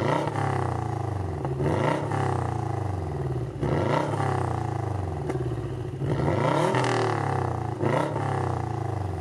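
A Subaru Impreza WRX STi race car with a new engine runs close by, rising and falling through repeated revs with a deep, rough roar that never drops to quiet.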